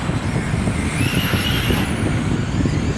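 Modified race cars roar around the TARCAR Toledo track in a season-ending feature, a loud continuous engine drone that swells and fades as the cars pass, with no voices.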